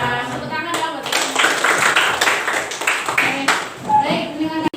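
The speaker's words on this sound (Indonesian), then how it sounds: "Tepuk tangan dong buat ini" A class claps along in a classroom, a dense burst of many hands clapping fairly loud and close, with voices mixed in and a short pause before it tapers off.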